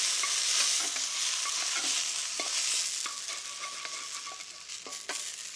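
Meat and vegetables stir-fry in a hot wok, making a busy sizzle broken by repeated sharp scrapes and clacks of a spatula against the metal, close and with no talking.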